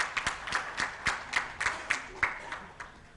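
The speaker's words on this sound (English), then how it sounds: "May I please have a huge round of applause?" An audience at a women's empowerment conference applauds, heard as a run of distinct, evenly spaced claps at moderate volume that thin out toward the end, with a faint murmur underneath.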